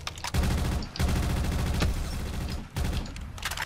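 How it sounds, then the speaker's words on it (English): Widow's Wine grenade explosions in Call of Duty zombies mode, heard as dense bursts of rapid, crackling blasts in several loud clusters separated by brief pauses. "These random Widow's Wine explosions are hitting the collectibles"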